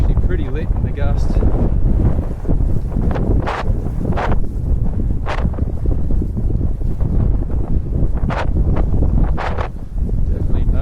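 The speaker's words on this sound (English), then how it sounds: "Whoa, there's a big gust." Strong gusty wind roars across the microphone while sailing a Naish ADX and DW Crossover on Pittwater, a constant loud rush with water and hull noise beneath and a voice speaking briefly in between.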